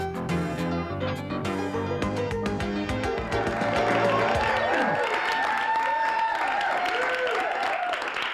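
A studio audience applauds as music plays over the start, and the clapping and cheering swell to a full, steady burst that continues to the end.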